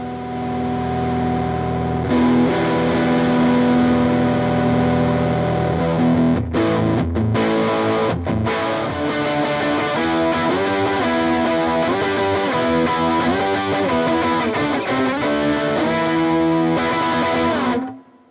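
An electric guitar played through a JHS Hard Drive distortion plugin gives thick, saturated chords and riffs, loud and sustained, with brief gaps between phrases before ringing out.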